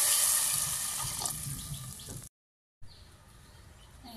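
Water being poured onto fried rice in a pot for pulao, a loud rushing, bubbling pour that fades slowly, then breaks off into brief silence before a quieter sizzle and hiss resumes.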